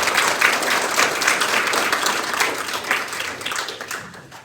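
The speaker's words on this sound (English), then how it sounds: "give her a round of applause" An audience breaks into sustained applause, a dense wash of clapping that fades slightly toward the end.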